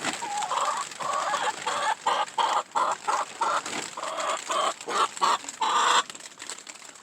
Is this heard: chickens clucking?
yes